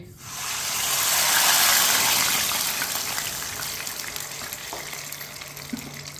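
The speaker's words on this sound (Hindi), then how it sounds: "साथ में 1 कटोरी पानी डाल लेंगे।" Water gushes steadily into a hot pan with sugar, hissing and sizzling loudly at first, then settling into a softer bubbling simmer.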